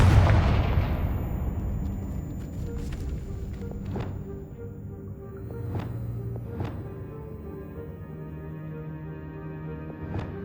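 A Confringo spell explosion in Hogwarts Legacy opens with a heavy, booming blast that fades into a rumbling tail, followed by a few sharp cracks and pops.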